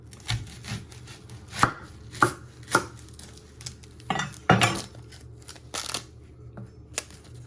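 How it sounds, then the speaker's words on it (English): A knife chops through the end of an onion on a cutting board in several sharp, close knocks spaced irregularly, with fainter board taps in between. "So you're going to first chop your end off, your onion."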